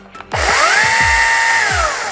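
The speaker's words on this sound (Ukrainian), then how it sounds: "Нам потрібно лише зняти аварійне гальмо та увімкнути ланцюгову пилку." A Husqvarna Aspire C15X-P4A cordless battery chainsaw starts up after a couple of brief clicks, then runs with a loud, steady electric whine close by.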